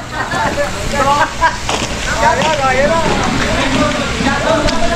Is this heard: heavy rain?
yes